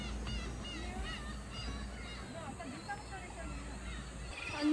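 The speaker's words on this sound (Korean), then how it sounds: "갈매기다." Seagull calls ring out along the Ulleungdo coast, several honking, squawking cries rising and falling over steady wind and surf noise, with a faint murmur of people nearby.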